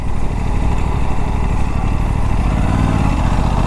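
An Aprilia RS457 motorcycle engine runs steadily on a night ride in Hinjewadi, Pune, a close, loud, even drone with no pauses and no voices.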